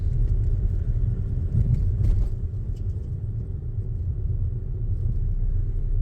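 Learner driver's car pulling away and moving up into second gear, a steady low engine rumble inside the cabin with no change in loudness and no talking.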